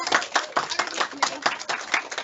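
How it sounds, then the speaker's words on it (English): A school assembly audience claps for the third-place team, the rectangles, in an uneven rhythmic patter of individual claps, fairly near and steady throughout. "Can we give them a big round of applause?"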